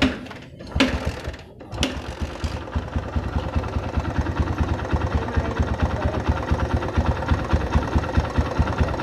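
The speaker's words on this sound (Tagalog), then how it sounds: "pakinggan nyo po yung tunog nitong ating Kawasaki Barako" Close up, a Kawasaki Barako motorcycle engine with an unidentified noise starts after a couple of cranks, then idles with a steady, rapid chugging rhythm.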